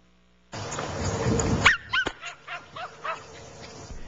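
Dogs in a backyard bark and yip in short, separate bursts close by, with a rustling lead-in and some whimpering mixed between the barks.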